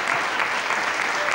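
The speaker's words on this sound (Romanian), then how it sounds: "Sunt adevărate aplauzele? Nu, sunt pe bandă." Prerecorded applause played back from tape during a Romanian television talk show, a dense, steady wash of many hands clapping, fairly loud and continuous with no voices over it.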